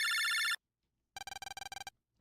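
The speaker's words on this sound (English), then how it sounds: "Lan, phone call." A phone rings for an incoming call: a sustained electronic tone, then a pause, then a rapid burst of repeated chirping pulses, clear and close with no talking.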